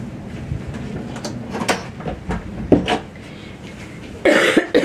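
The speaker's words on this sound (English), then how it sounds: "My son's having a cough attack." A child in a coughing attack lets out a run of harsh, irregular coughs, some sharp and some muffled as if behind a door, followed by a louder rustling burst.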